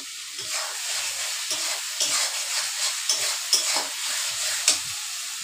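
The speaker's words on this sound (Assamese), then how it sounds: "মছলাখিনি ধুনীয়াকৈ কৰি ল'লোঁ, কষাই ল'লোঁ।" Spices, chili powder, turmeric, salt and tomato sizzle in a pan for chicken curry, a steady close frying hiss broken by irregular stirring scrapes, with no talk.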